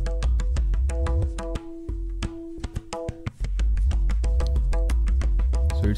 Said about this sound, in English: it's the sound of pahavaj.